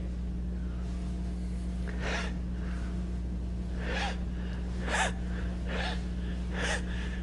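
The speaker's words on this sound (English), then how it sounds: "Each time, when you root into the ground, you have exhalation." Sharp breathy exhalations during a martial arts exercise, five or six short forceful bursts at uneven intervals over a steady low hum.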